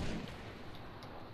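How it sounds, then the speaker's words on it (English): A rocket launcher fires in a first-person shooter game, a single faint, muffled blast at the very start that trails off into a dull rumble. "Oh, rocket launcher! You shot a fucking rocket!"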